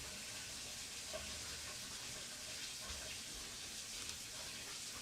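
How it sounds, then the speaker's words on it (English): Cold tap water running steadily to rinse a Chalk Couture transfer, a continuous faint hiss and splash at low level with a few small knocks, no talk over it. "So just a quick clean with some nice cold water there."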